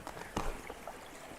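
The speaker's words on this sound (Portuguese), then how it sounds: "essa aqui é a primeira queda do Rio São Francisco, velho de guerra" The first falls of the São Francisco River send a steady wash of rushing water, with a brief heavier splash early on. No voices.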